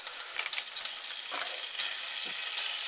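Food fries in a pan with a splash of beer instead of fat, giving a soft, steady, close hiss with faint crackles and no talk.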